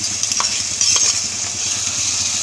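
Ginger garlic paste fries in a pan over softened tomato and onion for an egg curry. A steady bright sizzle carries a few soft stirring taps underneath.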